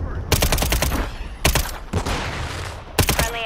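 Rapid video game gunfire crackles in dense automatic bursts during a multiplayer battle, with loud sharp volleys separated by short gaps.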